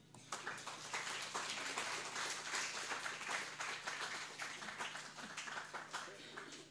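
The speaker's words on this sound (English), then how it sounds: "Please give our warmest applause to keynote speaker, Professor Frieda Scholz." Faint applause from a symposium audience: steady, dense clapping that continues throughout at a distance.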